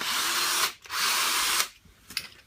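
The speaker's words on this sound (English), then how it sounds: "A couple of holes with the 3mm drill, and then with an 8mm drill." A power drill whirs in two sustained bursts, drilling holes into wood with a 3mm bit and then an 8mm bit, each burst cutting off sharply, followed by a few faint clicks and knocks, close by with no talking.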